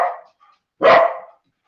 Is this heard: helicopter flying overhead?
no